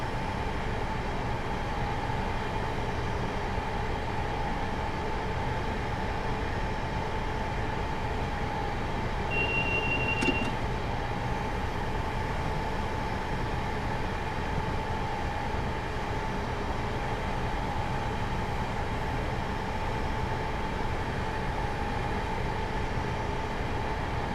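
An HST train in Train Simulator 2017 rolls along the Swansea to Bristol Parkway line, a steady, unbroken engine and rail rumble with a faint brief whine near the middle and no talk.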